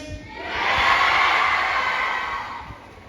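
A large crowd cheers and shouts, swelling quickly to a loud roar that holds for a couple of seconds before fading.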